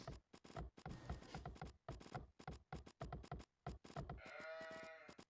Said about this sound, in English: As you can see, there are a lot of sheep